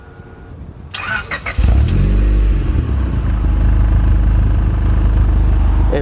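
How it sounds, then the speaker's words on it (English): A turbocharged Honda B16B car engine cranks briefly and fires up from cold, settling into a loud, steady idle that stays close and continuous with no talk over it. "about to give you guys like a cold start"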